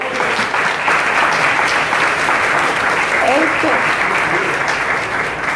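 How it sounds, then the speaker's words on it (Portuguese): An audience at the Flup Pensa 2018 poetry event in Brazil claps steadily and loudly for the poet Luna Vitrolira, with dense, continuous applause and a voice briefly speaking over it. "Salva de palmas, Luna Vitrolira."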